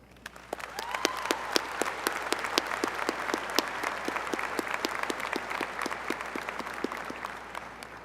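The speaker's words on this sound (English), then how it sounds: "Will the faculty and grads please join me in a round of applause for those who have provided us with" Applause from faculty and graduates at a West Virginia University commencement ceremony, a steady dense wash of many hands clapping in a large hall, sustained and even throughout without voices.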